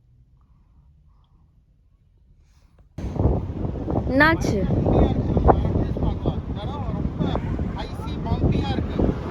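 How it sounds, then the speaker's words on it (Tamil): After a quiet start, a strong snowstorm wind in Halifax suddenly buffets the microphone with a loud, rumbling roar that keeps going. People talk briefly beneath the gusts. "காத்து தான் தாங்கவே முடியல."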